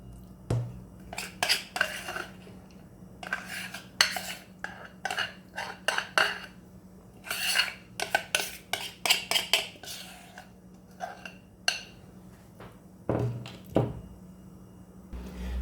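Cocoa cake batter is scraped from a bowl into a baking pan, producing a series of clinking, knocking utensil and dish sounds in bursts, with no talking.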